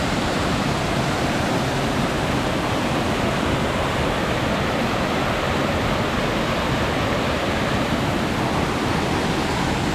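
Constant rushing roar of water flowing at Batlag Falls and its lagoon, an even, dense wash of sound filling the whole stretch without pauses or voices.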